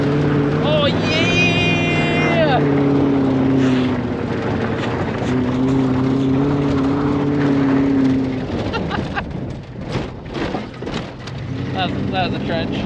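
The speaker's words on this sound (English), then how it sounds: "She literally sounds like she's a V6 though." A 36-year-old Camaro's engine revs and rumbles up close, sounding more like a V6, with a rising whine early on, while people talk and shout excitedly over it.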